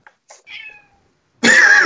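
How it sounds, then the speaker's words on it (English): A pet cat meows under a shirt at a tabletop role-playing game session, with a couple of faint short chirps first and then one loud, drawn-out, close meow. "The cat underneath Jenny's shirt meows."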